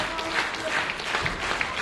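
Crowd at a live wrestling show in Barrie cheering and applauding steadily, a dense wash of claps and voices at moderate distance, with a few louder whoops rising over the noise.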